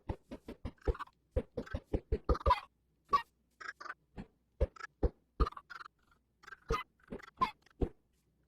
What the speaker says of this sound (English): we were actually able to get a lot of chickens out of those eggs